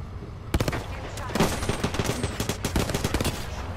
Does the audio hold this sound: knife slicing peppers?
no